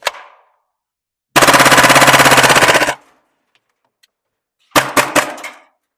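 A Tokyo Marui MP7 gas blowback airsoft gun fires a single sharp shot, then a long rapid full-auto burst of about a second and a half, then a short quick string of shots, loud and close with silence between.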